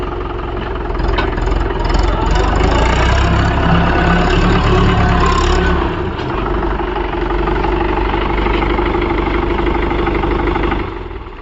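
A Mahindra 575 DI tractor engine idles close by in a small farm field, a loud steady low rumble that dips briefly midway before settling back and stopping at the end.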